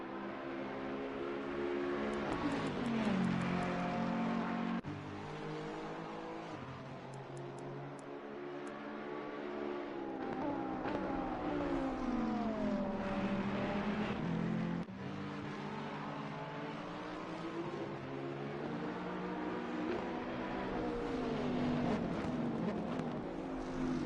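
Bentley and Ferrari 488 GT3 race cars at the Mount Panorama circuit during a two-hour endurance race, their engines howling loudly and steadily, with the pitch rising and falling through gear changes as the cars pass close by.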